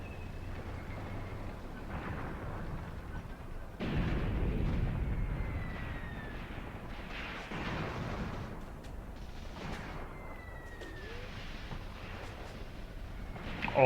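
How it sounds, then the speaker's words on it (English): Mortar rounds exploding in the WWII tactics game Graviteam Tactics, set around Kharkov 1942: a series of dull booming blasts at intervals with rumbling decay between them, moderately loud over a constant background of battle ambience. "These guys also getting mortared"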